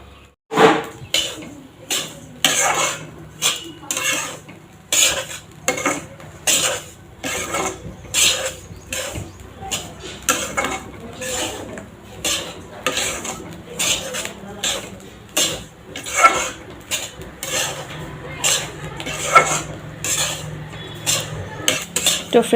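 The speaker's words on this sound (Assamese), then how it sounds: "তিলৰ ফুটা যেতিয়া তিলখিনি হৈ যায় তেতিয়া সাউন্ডটো এনেকৈ আহে মানে পুটুককে ফুটি যায়" Sesame seeds roasting in a pan while being stirred give a steady series of sharp scraping strokes with small pops and crackles, close and fairly loud, repeating in a quick regular rhythm.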